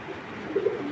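A breeding female racing pigeon gives a short, soft coo close by, a brief low throaty burst over a steady background hiss, with no one talking.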